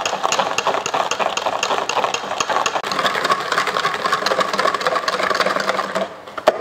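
An electric mixer whips chocolate and coffee tiramisu cream in a bowl, a steady close buzzing whirr with a rattling texture that runs continuously before cutting off at the end.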